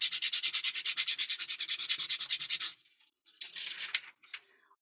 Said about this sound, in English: if I sand over it